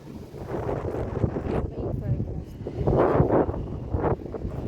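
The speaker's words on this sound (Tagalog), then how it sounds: "Mahangin pa." Wind gusts buffet the microphone outdoors at Coney Island, a rough, uneven rumble rising and falling with people talking beneath it.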